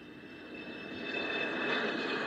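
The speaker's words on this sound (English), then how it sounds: "Flight 76 is now ready to take off." An airplane engine roars steadily as the aircraft takes off and flies, the broad rumble and whine swelling gradually louder with no voices over it.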